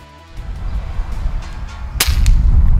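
A single sharp crack of an FX Impact Compact air rifle firing an H&N Baracuda pellet outdoors during pest control, a brief loud snap about two seconds in over steady ambient noise.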